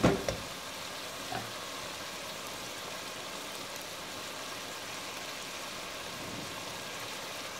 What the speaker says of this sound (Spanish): Le voy a agregar ahorita aquí el ajo picado.